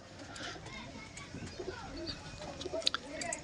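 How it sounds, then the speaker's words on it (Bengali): Pigeons coo softly in a loft of big-bodied, clear-eyed birds, low murmuring calls mixed with faint chirps under a general room hum, with voices nearby. "একদম পরিষ্কার চোখের পায়রা"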